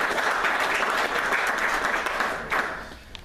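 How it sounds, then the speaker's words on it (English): A conference audience at PTC 2015 applauds Artur: dense, steady clapping from many hands that holds strong, then thins and fades toward the end. "if you could give him a big round of applause"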